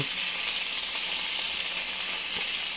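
Shrimp laid flat in a hot frying pan sizzle loudly and continuously, a dense, even crackling hiss with tiny pops and no voices.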